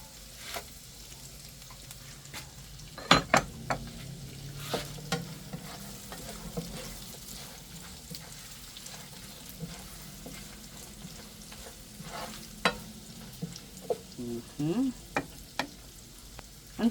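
Ginger frying in a pan, soft steady sizzle with scattered sharp clinks and scrapes of a utensil stirring, moderately quiet and without talk.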